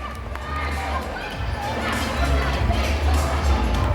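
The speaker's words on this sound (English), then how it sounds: "Guys, give them a huge round of applause." A crowd, many of them children, cheers and shouts at a science show after a demonstration of spinning a football on the hands. The noise is loud and steady throughout, a dense, close wash of voices.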